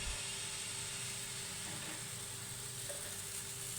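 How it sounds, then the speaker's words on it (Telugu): Dosa batter, poured from a bowl onto an oiled pan over medium heat, sizzles with a faint, even crackle that continues alone for a few seconds. "ముందుగా మనం తయారు చేసుకున్న బ్యాటర్ను గిన్నెతో తీసుకొని పెన్నం మీద"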